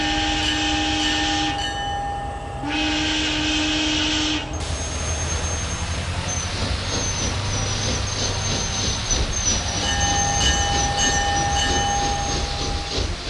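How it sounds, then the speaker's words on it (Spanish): A train of El Salvador's Western Railway rolls past, opening with sustained horn-like tones that break off, then a loud, steady rumble of wheels and cars continuing throughout. "Es el ferrocarril de Occidente."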